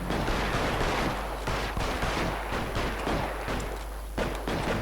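Dense gunfire fills a shootout in L.A. Noire, a steady barrage of shots and thuds layered over a loud, noisy game scene.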